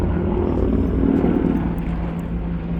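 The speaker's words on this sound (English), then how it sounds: "Here comes a helicopter overhead." Helicopter flying overhead at an archaeological excavation site at Tel Azekah, a steady loud droning rotor rumble that holds throughout without talk.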